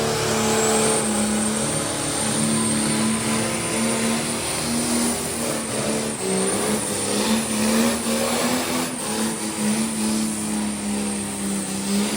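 A tractor's engine roars loud and close at a 2025 New York State Tractor Pullers Association pull, one sustained strained drone whose pitch wavers slightly as the machine pulls, with no voices over it.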